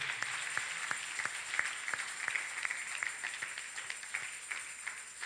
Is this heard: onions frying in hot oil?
no